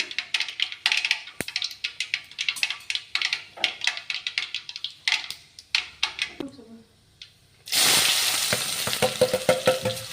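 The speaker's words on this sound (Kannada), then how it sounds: "ಈಗ ನೋಡ್ರಿ ಜೀರಿಗೆ ಸಾಸಿವೆ ಚಟ್ಪಟ ಆಗತ್ತಲ್ಲ, ಈರುಳ್ಳಿ ಹಾಕೋಣ." Cumin and mustard seeds spluttering in hot oil as sharp rapid pops, followed by a sudden loud burst of sizzling when onion is added for a ridge gourd stir-fry.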